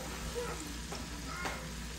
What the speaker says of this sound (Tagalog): i-mix lang natin.